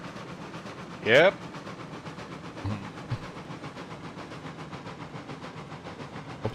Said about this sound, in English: Listen to those trains.